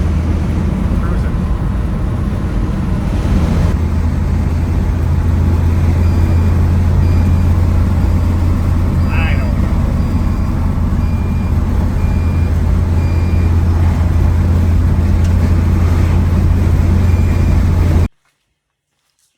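An old car, newly registered and back on the road after about ten years off it, drives with a loud, steady low engine drone and road rumble, then cuts off abruptly at the end.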